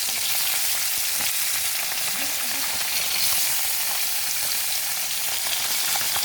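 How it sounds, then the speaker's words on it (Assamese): Kawoi fish frying in hot mustard oil in a kadai, a steady bright sizzle that holds evenly throughout with faint stirring underneath and no talking. "এতিয়া মই মাছখিনি অলপ ফ্ৰাই কৰি লম"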